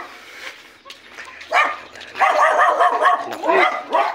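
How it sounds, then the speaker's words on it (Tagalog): Several dogs bark behind a house in a rural Philippine yard, loud and close in short irregular bursts with yips mixed in. "Naku, mga aso talaga."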